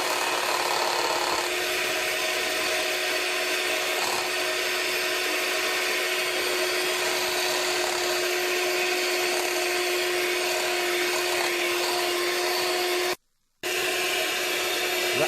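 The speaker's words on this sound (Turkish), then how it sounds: "Ve sıcak bir vaziyette 4 dakika boyunca bir ile çırpıyoruz." An electric mixer whips hot cream with a packet of whipped cream powder for a Cyprus-style creamy dessert, a steady close whine and rattle that runs continuously apart from one short gap near the end.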